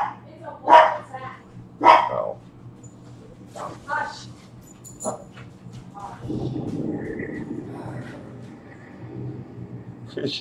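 Dogs bark indoors in a game setting, with two sharp loud barks early on, then a rougher, lower growling texture in the second half while someone talks over it.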